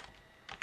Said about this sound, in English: let's go ahead and press ctrl+alt+t on our keyboard